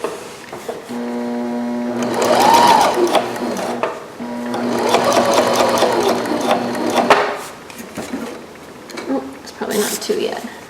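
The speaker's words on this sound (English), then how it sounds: "I'm not going to back stitch, I'm just going to baste these down at a long stitch length" A sewing machine bastes down seam allowances at a long stitch length, running in two sustained whirring, ratcheting bursts with a pause between, while a person talks over it.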